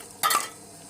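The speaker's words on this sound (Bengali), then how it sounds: "আমি সবগুলো ভালোভাবে মেখে নিচ্ছি।" Mashed ingredients for bhorta are worked together by hand with oil, giving one short, close, wet squelching burst in an otherwise quiet moment.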